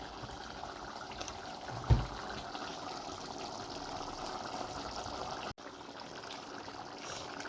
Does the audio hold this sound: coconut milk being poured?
yes